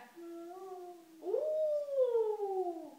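A child imitates a wolf howl with a long rising-and-falling tonal wail, close and fairly quiet, breaking into a second louder drawn-out howl that slowly falls away.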